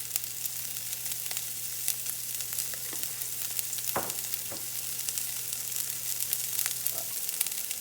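Asparagus and broccoli sauté in a hot pan with a steady, dense sizzle throughout, broken by a few soft clinks and stirring scrapes near the middle and end.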